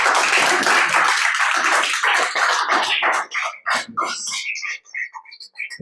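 A church congregation's applause thinning out, with dense clapping at first that breaks into scattered individual claps and a few voices before dying away.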